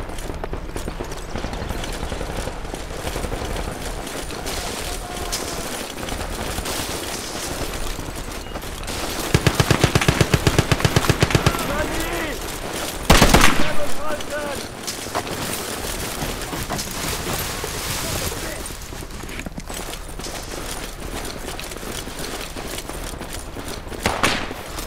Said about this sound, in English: Sniper here under heavy fire.